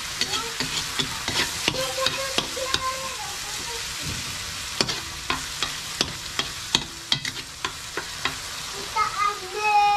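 Ginger sautés in a pan for papaitan, a steady sizzle punctuated by frequent sharp scraping and tapping of a utensil stirring the pan, close and with no speech.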